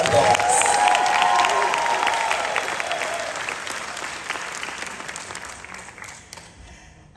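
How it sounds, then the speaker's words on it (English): Audience at a Jamaican 60th Independence celebration in Miami applauding and cheering, a loud, dense round of clapping with shouts mixed in that slowly thins and fades toward the end. "I really want you to give Jamaica and to give yourself another big round of applause."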